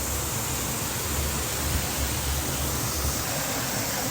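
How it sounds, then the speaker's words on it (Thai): A waterfall at a natural pool gives a constant loud broadband roar of rushing water, steady and unbroken throughout. "น้ำตกสวยจริงนะครับ"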